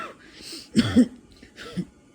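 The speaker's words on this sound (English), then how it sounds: "And my coughing will act up too." A person recovering from COVID coughs a few times in short, hoarse bursts, close and fairly quiet, separated by brief pauses.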